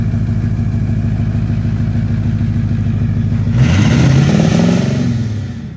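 A lifted Ford 6.0 Power Stroke diesel truck with a broken exhaust idles with a steady low rumble, then revs sharply, the engine note rising and falling before settling, loud and close.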